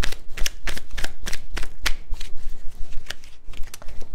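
A deck of advice cards being shuffled by hand, with rapid, close, crisp riffling snaps in an uneven rhythm throughout.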